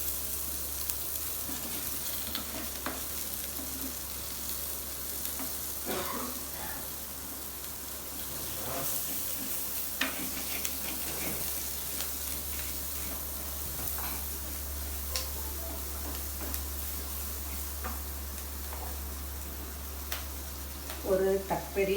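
Onions frying with a pinch of salt in a clay pot give a steady, close sizzle with small crackles and occasional stirring clicks, running throughout under a constant low hum.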